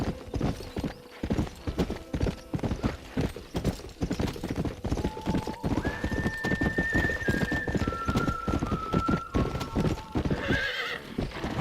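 A horse's hooves clip-clop in a steady, close rhythm while it lets out a long whinny partway through, the footfalls continuing throughout with no talk.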